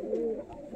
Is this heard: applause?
no